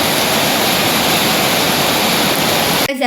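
Loud, continuous rushing water flowing over a road fills the whole stretch, a dense steady roar up close, cut off abruptly near the end.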